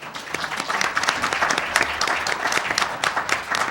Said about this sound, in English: A round of applause, please, for Jill Falstad.